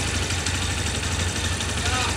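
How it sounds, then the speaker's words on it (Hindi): Steady engine noise from a TVS Sport BS6 motorcycle running while the bike is tilted to the right, a continuous close low drone with a faint irregular knock, heard alone. "देखो गाड़ी को राइट साइड ये भाई जुगा रहे हैं और देखो आवाज़ इंजन से चालू"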